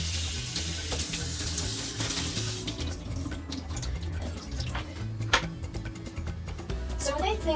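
Tap water runs steadily over carrots held in a small kitchen colander for rinsing, a continuous close hiss and splash with faint background voices over it.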